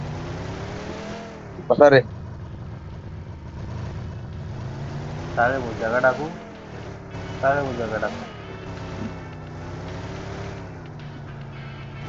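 Vehicle engine in the battle royale game BGMI, a steady low hum running through the whole stretch with a couple of brief louder revving bursts, heard under several people chatting casually over voice chat.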